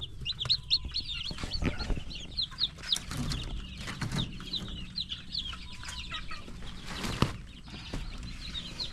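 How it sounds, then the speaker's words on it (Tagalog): Newly hatched chicks and other chickens on a small farm, with steady high chirping and peeping across the whole stretch, soft clucks underneath, and a brief sharper sound near the end. "So marami na tayong sisiw ngayon guys."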